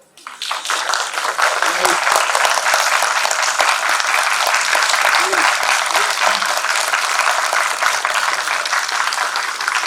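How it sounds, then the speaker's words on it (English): Families at a business school graduation convocation applaud the graduating students, loud continuous clapping that starts abruptly and fills the hall, with a few voices briefly audible underneath. "And please applaud them."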